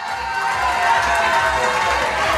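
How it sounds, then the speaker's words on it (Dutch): Audience applause at an adult award ceremony, Playback 2004: a steady, dense wash of many hands clapping together in a hall, sustained at even loudness for a couple of seconds. "Ja, applaus."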